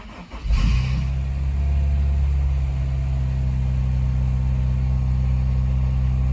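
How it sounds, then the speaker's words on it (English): A 2007 Laguna Blue Pearl Honda S2000 AP2 cold-starts close by with a brief burst of cranking, then settles into a loud, steady idle. "let's see if the cold start still has that kind of chatter to it"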